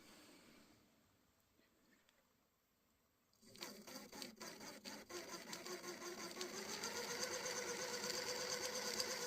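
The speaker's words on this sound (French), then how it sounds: "Eh bien, le moteur est remonté. Ça tourne, on va pouvoir le voir." A rebuilt electric motor in a homemade 8x8 RC crawler starts up after a quiet stretch, whirring steadily with rising intensity and rhythmic mechanical clicking from the gearbox, close and alone.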